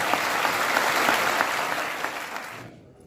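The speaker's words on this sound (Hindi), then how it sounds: "मैं चाहूंगा एक बार वेस्ट बंगाल के लिए जोरदार ताली बजाएं" Loud, dense audience applause at an IMC RAS program in Kolkata, cheering for West Bengal; sustained clapping from a large crowd that fades out at the end.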